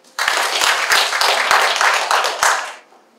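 Guests at the opening of a painter's solo exhibition in Cheonan give a short burst of close hand clapping, lively and fairly loud for roughly two and a half seconds before fading quickly to quiet.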